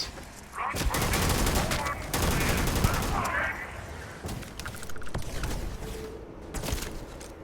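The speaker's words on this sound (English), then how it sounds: "Stop shooting me." Bursts of gunfire in the game Starfield crackle and rattle in quick volleys, with mechanical clanks between shots and some voices underneath.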